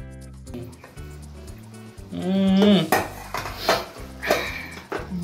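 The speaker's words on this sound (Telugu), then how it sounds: "సో మొత్తం కలిపి మిక్స్ చేయండి." Mutton biryani gets mixed in a pot, with loud metal spoon scrapes and clanks against the pot over background music.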